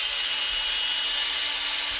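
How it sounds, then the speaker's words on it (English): A small handheld Q-tip drill running steadily, a thin high-pitched whir with a constant faint tone underneath, loud and close for two seconds without talk. "You even put my Q-tip drill in here?"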